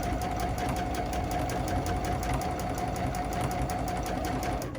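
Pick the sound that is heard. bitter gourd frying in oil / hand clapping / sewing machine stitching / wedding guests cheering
sewing machine stitching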